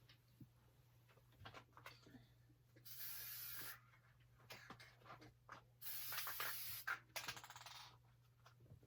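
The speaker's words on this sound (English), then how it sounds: "I'm going to spray both of these so that they can tack them down." Two long bursts of hissing spray from a can of embroidery adhesive, each lasting about a second, with soft handling noises and a low hum in between.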